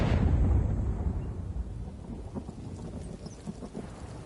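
A storm effect in an audio drama opens with a heavy, booming rumble of thunder. It fades into a steady wash of rain with scattered drops, and no voices are heard.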